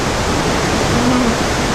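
Running water downtown in Vancouver makes a dense, steady rushing roar, loud and close, with no breaks across the short stretch.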